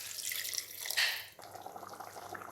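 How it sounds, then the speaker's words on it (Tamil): Water pours and drips into a pan of potato kurma on a home stove, a splashy trickle swelling around the middle and then settling into quieter dripping, close and without talk. "இப்போது இதில் தேவையான அளவுக்கு நம்ம தண்ணி சேர்த்துக்கலாம்"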